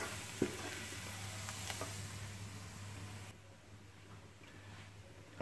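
Fabada asturiana bean stew boiling in a pot, giving a steady, soft, hissing bubble with a low hum underneath and a single light knock near the start.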